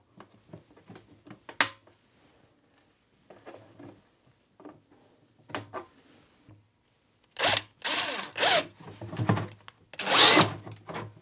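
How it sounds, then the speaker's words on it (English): A power drill bores a hole through a gas can in a few short bursts, with quiet handling and scraping between them, then a louder stretch of whining, grinding drilling near the end. "Well, hopefully drilling the hole was the hard part."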